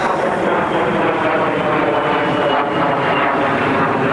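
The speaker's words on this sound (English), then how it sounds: "Jet flying over." Over a disc golf course, a jet aircraft passes overhead as a loud, steady broadband roar that holds for the whole four seconds without a break.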